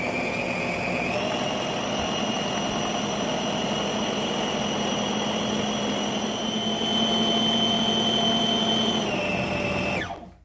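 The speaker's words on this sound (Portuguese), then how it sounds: "agora nós vamos bater as claras aqui já na minha batedeira" An electric stand mixer whips egg whites to stiff peaks for a pineapple cake, a steady close motor whine with a shift in pitch as speed changes, then cutting off at the end.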